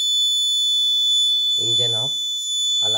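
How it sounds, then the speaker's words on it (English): A steady, piercing electronic alarm buzzer from a vehicle accident detection system drones continuously throughout, with a voice briefly speaking over it twice. "Engine off, alarm on."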